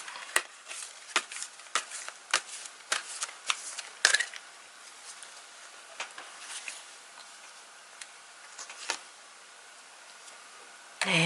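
Tarot cards shuffled by hand in a quiet room, a run of crisp riffles and soft slaps in quick irregular bursts, close and fairly faint, with no talking.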